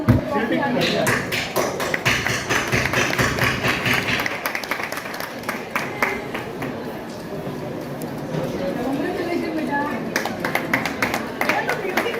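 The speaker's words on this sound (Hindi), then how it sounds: "ताली बजाइए, ताली बजाइए, ताली बजाइए।" An audience claps at an event in India, a stream of sharp, uneven claps lasting about twelve seconds and blending into crowd noise.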